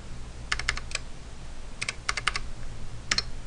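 Keystrokes on a computer keyboard entering a colour hex code, three short bursts of clicks separated by pauses, crisp and close with a faint background hum.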